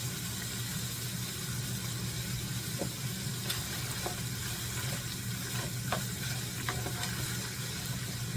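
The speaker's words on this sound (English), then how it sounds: "You want to saute some onions in with the meat before it's totally done." Frozen onions sauté with ground meat for homemade sloppy joes, making a constant pan sizzle under a low steady hum, broken by a few sharp clinks and scrapes of stirring.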